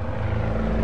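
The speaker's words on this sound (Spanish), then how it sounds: "41 torpederos Douglas descienden para atacar." A Douglas torpedo bomber diving to attack gives off a dense, steady propeller-engine roar with a deep low hum, loud and continuous through a short burst with no voices.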